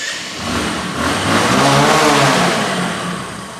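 A Bajaj Discover motorcycle with Dhaka Metro registration revs its engine, a steady loud rise and fall of the motor over a few seconds, heard alone without talk.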